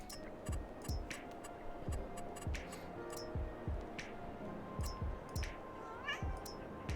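A cat meows a few times, close by, over a steady busy background with repeated low thumps and faint ticking; the calls stand out briefly above the bed of noise.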